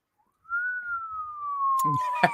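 A person softly imitates a siren with a single rising then gently falling wail, after which speech begins.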